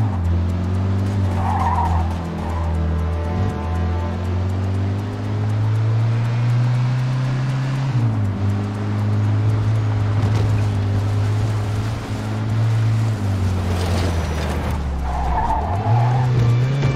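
Car engine revving hard in the Mafia II video game, a loud steady drone that rises and falls, with repeated tire skids and squeals layered over it and no talking.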